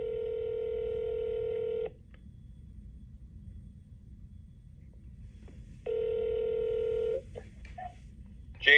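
Ringback tones on a phone line to a diesel truck repair shop's service desk: two long steady electronic rings separated by a pause with low line hum, followed by a short burst of keypad beeps near the end.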